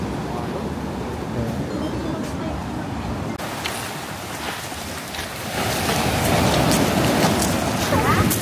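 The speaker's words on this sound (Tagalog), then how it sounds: "Malakas yung alon ngayon na puntahan namin." Strong sea waves surging and washing in a continuous broadband roar, close and loud, growing heavier and louder in the second half with wind noise over it.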